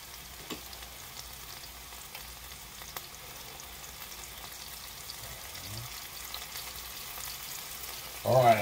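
Onion burger patties frying on a hot surface, a steady low crackling sizzle throughout with a brief louder clatter near the end.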